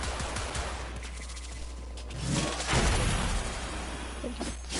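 An enemy fires at the player in the video game Warframe, with bursts of gunfire, the loudest in the middle, over a continuous roar of game noise.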